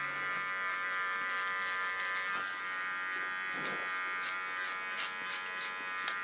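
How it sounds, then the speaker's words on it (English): A small electric hair clipper buzzes steadily during a very short clipper haircut, a close, constant high-pitched hum with faint scraping ticks as it moves over the scalp. "Coming to my smallest clipper."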